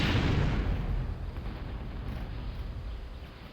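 Tech 3 artillery fire in a real-time strategy game on a 4v4 map: one loud low boom at the start that fades into a sustained rumble of distant blasts, with no talk.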